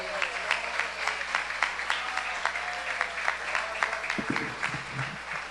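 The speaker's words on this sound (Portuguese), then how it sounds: "aplaude a palavra de Deus com muita alegria." Church congregation applauding during a Portuguese-language worship service, a steady broadband patter of many hands with a few sharper claps standing out, moderately loud throughout, with a brief low thump near the end.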